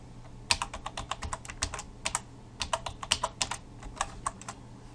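A password typed on a computer keyboard: quick, irregular bursts of crisp key clicks, close and clear, with short pauses between groups over a low steady hum.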